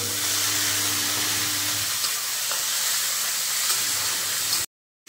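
Chopped tomatoes hitting a hot pan with ginger and garlic, giving a loud, steady sizzling hiss that runs without pause before cutting off abruptly.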